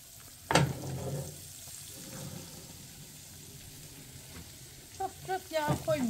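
Horse mackerel frying in a pan, a quiet continuous sizzle with a sharp clatter near the start, and a person talking toward the end.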